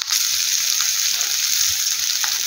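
Okra (bhindi) frying in a pan over a medium flame, giving a continuous bright sizzle with soft crackles, close and steady with no voices.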